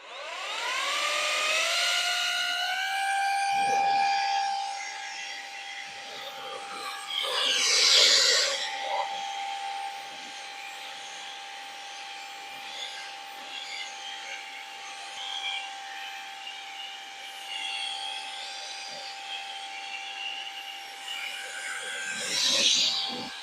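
A rechargeable air duster fitted with a brush nozzle blows in a steady, fairly loud high-pitched motor whine with a hissing rush of air, surging briefly louder partway through and again near the end.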